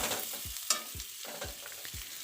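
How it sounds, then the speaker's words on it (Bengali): Cut potatoes stirred and fried in a small amount of oil in a pan, a soft steady sizzle broken by several low scraping strokes of a spatula, quiet and without any talk. "তারপরে কেটে রাখা আলুগুলো দিয়ে একটু নাড়িয়ে চাড়িয়ে ভেজে নেব।"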